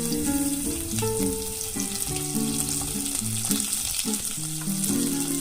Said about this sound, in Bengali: এর সাথে সামান্য একটু নুন দিয়ে আমি এটাকে ভাজা ভাজা করে নেব